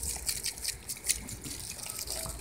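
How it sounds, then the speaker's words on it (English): Soapy water dumped out of a container onto soil outdoors, a short gushing splash and trickle with uneven bursts of pouring, close by. "you just dump this soapy water in a splash effect"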